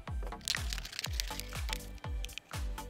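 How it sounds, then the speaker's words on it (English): A plastic water bottle has its bottom cut off, giving a rhythmic series of crackling, crunching snips about twice a second, close and fairly loud with no talk. "First, you want to cut the butt of this bottle off."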